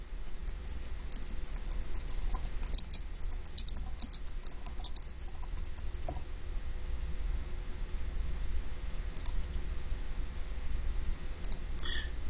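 Computer keyboard keys tapped while entering a spreadsheet comment, a quick burst of clicks in the first six seconds, then a few scattered taps over a steady background hiss.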